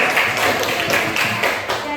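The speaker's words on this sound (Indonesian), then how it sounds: "Tepuk tangan untuk" A small classroom group claps in a loose patter of separate bursts at a teacher's prompt during a mathematics lesson, moderately quiet and close, with speech around it.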